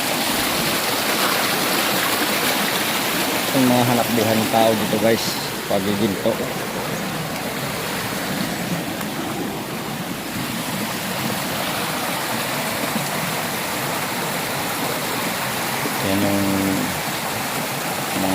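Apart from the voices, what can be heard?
flowing stream water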